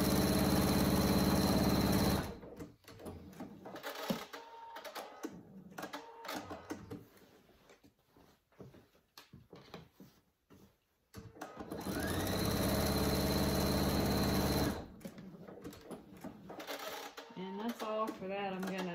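A sewing machine stitches a cat carrier cover in two long, steady, buzzing runs, with a quieter stretch of handling and talking between them and more talk at the end.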